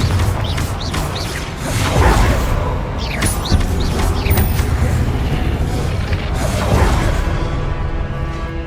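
Confringo blasting spells in Hogwarts Legacy during combat, with repeated whooshing casts and booming explosive impacts in a dense, continuous battle mix of crashes and effects throughout.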